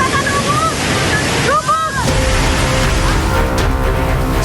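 Flooding Cikaret river in Cibalagung, Bogor, West Java, its water rushing in a loud, continuous roar while a voice shouts over it.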